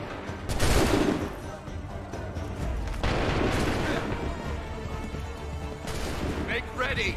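Musket volleys in Assassin's Creed 3, two or three loud massed crashes of simultaneous shots, each followed by a rumbling decay, with shouted commands from soldiers in between.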